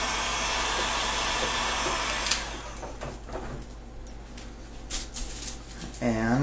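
A heat gun blows continuously over a wooden Scythian-style horse-bow, a loud steady airy roar that drops away partway through, leaving scattered clicks and handling noises before a voice speaks at the end.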